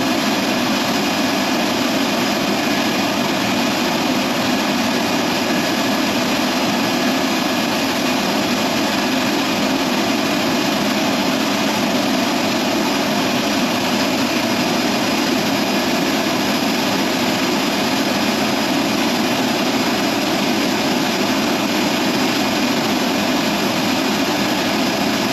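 An F-16 Viper fighter jet runs up its engine on the ground before taxiing, a loud, steady, unbroken roar with a high whine that holds level throughout.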